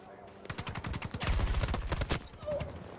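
Gunfire in the video game Battlefield 2042, with rapid bursts of automatic shots rattling in quick succession, loud and close, one burst running into the next, with brief faint in-game noises around them.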